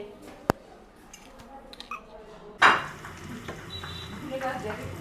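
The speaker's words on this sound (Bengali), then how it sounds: "আজকে লাস্ট ইফতারি ভাজা হচ্ছে।" Iftar snacks frying in a pan on the last day of Ramadan give a soft sizzle under stirring and utensil clatter, with a sharp clank and a louder burst of frying partway through and household voices nearby.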